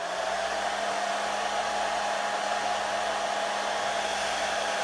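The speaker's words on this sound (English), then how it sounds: "Go through with my blow dryer again and just press it in." Continuous whooshing roar of a hair dryer running close by at constant strength, with a steady whine on top, no talking.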